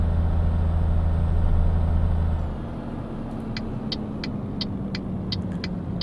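A Renault truck engine in Euro Truck Simulator 2 drones at high revs, then drops to a lower idle partway through, with a run of light, regular ticks afterward and no talking.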